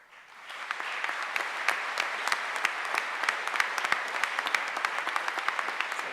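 An audience at a university opening convocation breaks into a steady round of applause for an award honoree, dense clapping that builds quickly and holds evenly for several seconds.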